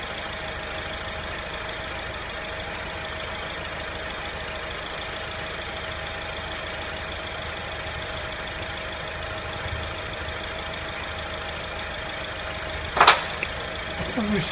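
An Alfa Romeo Spider engine idles steadily in a workshop with a constant, even hum and faint mechanical ticking, then a brief sharp click near the end.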